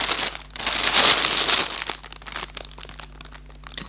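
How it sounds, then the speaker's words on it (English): Plastic packaging around a set of four yarn skeins rustles and crinkles close to the microphone, louder in the first two seconds and then softer, with no one talking. "I'm just going to hold it up and hope the rustling isn't too much"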